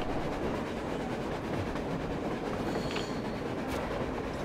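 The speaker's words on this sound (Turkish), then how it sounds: "A train, a damn train on the surface." A train rumbles past on the surface in the video game Metro Exodus, a loud continuous clatter of wheels on rails with a brief high squeal near the end.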